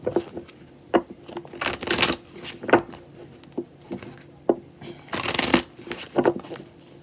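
A deck of tarot cards is shuffled by hand, close up, in repeated riffling bursts with sharp card taps and slaps between them, and some quiet talk in the background.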